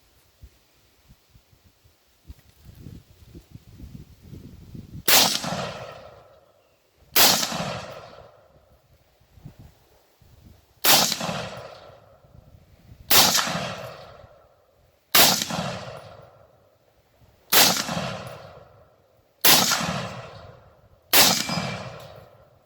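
M1 Garand rifle, CMP Special Rack grade, fired outdoors in eight loud, sharp shots spaced about two seconds apart, each with a long echoing decay, after a few seconds of low rustling.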